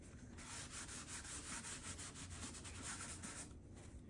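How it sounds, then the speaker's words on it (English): Steady rubbing over a painting's surface, wiping paint back off in a studio; the scratchy, brushy friction runs continuously and close for the whole stretch, with a brief lull near the end and no talk. "putting it on and rubbing it off."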